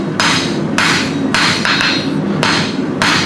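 A blacksmith hammers a hand-forged hook on an anvil, drawing out a 1.5 inch taper. Five loud, ringing blows land at a steady pace, each one sharp and close, with low shop noise filling the gaps.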